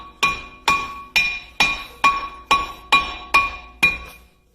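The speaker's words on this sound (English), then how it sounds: "you're going to take your rubber mallet, and you're going to hit on the back side" Rubber mallet striking the back side of a brake caliper on a Volvo S60 T5, eight evenly spaced sharp metallic knocks with a ringing tone, close and clear with no talk.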